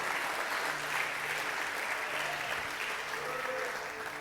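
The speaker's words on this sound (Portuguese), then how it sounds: "Você pode aplaudir Jesus por isso?" Church congregation applauding during a sermon, a soft, continuous patter of clapping heard at a distance with faint tonal sounds beneath it.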